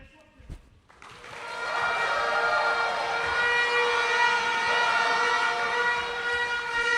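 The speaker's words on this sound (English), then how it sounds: "The air horns going crazy." Loud, sustained air horns blare after a brief burst, holding steady tones over a roaring crowd for several seconds at a National Badminton League match in an arena.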